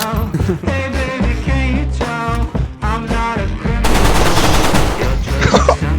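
Rapid automatic gunfire sprays loudly and continuously in the survival video game DayZ, a dense rattling burst that swells into a steady roar toward the end with little else over it.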